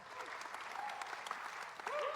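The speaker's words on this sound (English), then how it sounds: "Can we give these guys a round of applause?" An audience claps in a church service after a band's performance, a dense, steady applause that swells slightly near the end, with a few voices faintly mixed in.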